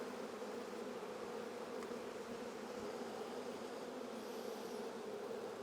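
Honeybees in a failing hive give off a steady, dense roaring hum close by, unbroken and even in level throughout, with no voices over it.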